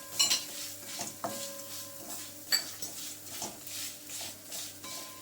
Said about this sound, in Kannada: ಎಲ್ಲ ಲೋ ಫ್ಲೇಮಲ್ಲೇ ಹುರ್ಕೊಳ್ಳಿ